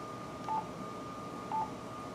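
Two short electronic beeps sound from a Yaesu FT-450D radio as its buttons are pressed during programming, about a second apart over a faint background hiss.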